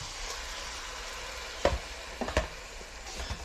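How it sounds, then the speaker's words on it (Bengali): Ground spices including cumin and salt sautéing in a pan with a splash of water, a steady close sizzle broken by a few stirring scrapes and knocks, no voices. "এখন মশলাগুলো কষিয়ে নিব।"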